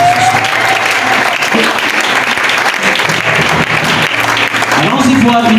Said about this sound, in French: Est-ce que je peux entendre des acclamations pour le Seigneur?